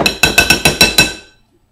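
Six or seven sharp, evenly spaced clinking thuds of a potato masher mashing bananas in a bowl, loud and close, then quickly fading to silence.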